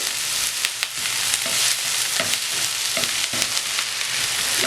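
Okra sautéed with salt in a pan for vendakka mezhukkupuratti makes a continuous close sizzle broken by regular scraping strokes of a spatula, with no voices.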